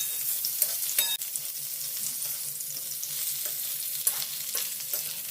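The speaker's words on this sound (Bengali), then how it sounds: "এবার এটাকে হালকা করে নাড়াচাড়া করে ভেজে নেব।" Cauliflower sizzles as it fries in a wok, with a steady hiss broken by scraping and knocking from occasional stirs, close and fairly quiet, with no talk.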